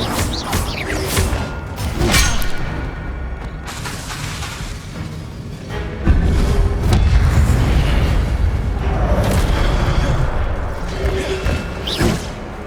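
Incendio fire spells burst in Hogwarts Legacy combat, several loud whooshing booms and crackling bursts spread across a rumbling fight, some near and punchy, others trailing off.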